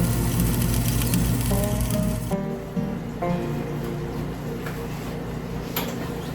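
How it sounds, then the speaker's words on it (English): Home-cooked chili simmers in a pot as a topping for loaded baked potatoes, giving a steady, soft bubbling sizzle that plays over background music. "The chili's been simmering for about a half an hour"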